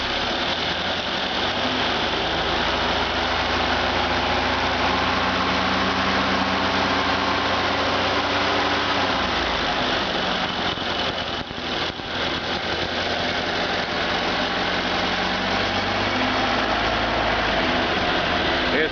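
A rebuilt Ford Model A engine runs on a stand with a loud, steady idle, then its note shifts as the throttle opens and it revs up partway through before settling into a steady run.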